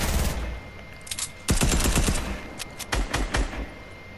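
Video game gunfire comes in rapid automatic bursts, loud and close, with clusters of sharp shots separated by brief pauses.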